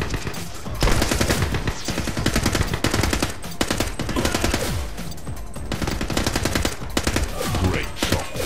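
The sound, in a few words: gunfire in video game The Club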